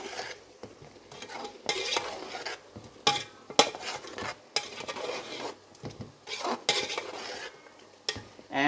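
Tomatoes, curry leaves and chilies are stirred in a pot for chicken biryani, with repeated close scraping and clattering strokes of a spoon in an uneven rhythm over a faint sizzle.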